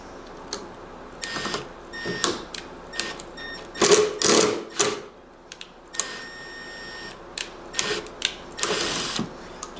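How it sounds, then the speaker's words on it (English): A screw is driven into a slightly undersized drilled hole to bore it out while installing a tachometer and hour meter on a zero-turn mower, giving bursts of whirring, ratcheting driver noise in uneven spurts, close and fairly loud. "I'm going to go ahead and run the screw through it to open it up."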